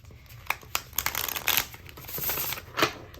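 Tarot cards shuffled by hand alone, a run of crisp riffling bursts and soft slaps of the deck, uneven in rhythm and close by.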